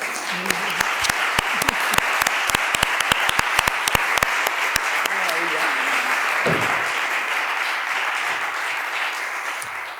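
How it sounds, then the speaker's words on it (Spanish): An audience at a literary talk claps again for the speaker, a steady, fairly distant patter of many hands with a few sharper claps, lasting the whole stretch. "Le aplaudimos otra vez, ¿no?"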